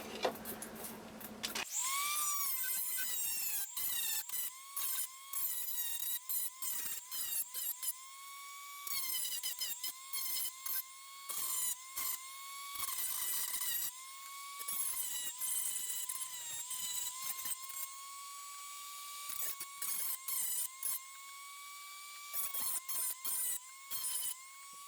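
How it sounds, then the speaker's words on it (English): A Dremel sanding wheel grinds a plastic Raspberry Pi cartridge case part, giving a high, whining motor tone in repeated bursts as the wheel bites and lifts off, close and loud throughout. "We're going to use the Dremel sanding wheel to clean up the mess I just made on this part."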